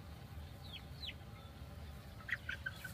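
Free range chickens on a farm cluck and chirp softly in short scattered calls over a low, steady outdoor rumble.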